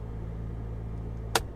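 A steady, low mechanical hum of a train horn air compressor motor on a Ford F-150 drones on, then cuts off with a sharp click near the end.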